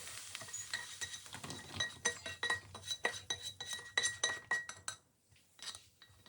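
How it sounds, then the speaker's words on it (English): Fried onions are tipped into a bowl as sage, onion and sausage meat stuffing is made, giving a quick run of close glassy clinks and scrapes that stops abruptly near the end. "Tip the onions into a bowl"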